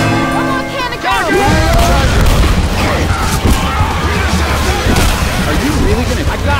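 Cannons fire in a video game, loud booms and crashing impacts layered over music and chaotic battle noise, with voices shouting over the din.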